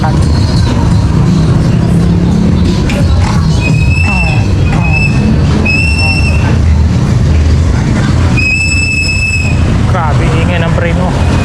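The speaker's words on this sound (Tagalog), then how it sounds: "Ingay ng preno ng tricycle." High, piercing tricycle brake squeals ring out several times over loud, steady traffic rumble, with voices talking nearby.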